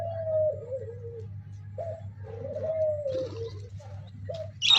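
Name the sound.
pigeons cooing while feeding from hand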